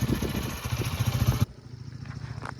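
Dusty motorcycle engine idling with a rapid, lumpy throb close by, cutting off abruptly partway through and leaving a quiet background with faint clatter.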